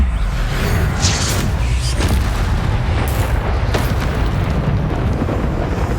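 Blasting-curse explosions from the Confringo spell in Hogwarts Legacy, a continuous loud rumbling boom with sharp crackling bursts layered over it, dense and sustained throughout with no talking.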